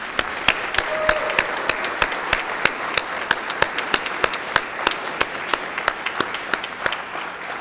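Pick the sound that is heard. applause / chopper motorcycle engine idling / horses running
applause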